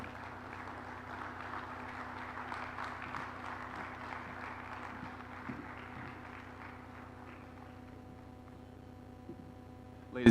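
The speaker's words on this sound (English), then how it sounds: "Ladies and gentlemen, another round of applause" Audience applause at an African local content investment forum, a faint, distant patter of many hands clapping that steadily thins out and fades over several seconds.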